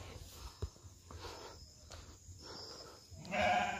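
Penned sheep bleating at night on a rural smallholding, a faint, distant bleat or two rising over a low background of crickets and soft rustling, with a louder, closer bleat near the end and no talk.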